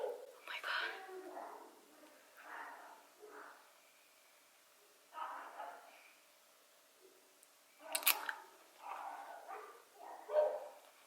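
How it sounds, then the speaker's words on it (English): Neighbours' dogs barking at a distance in a Las Vegas home, several short bursts of barks scattered across the stretch, faint and thin, with a louder cluster near the end. "If you could hear that dog barking,"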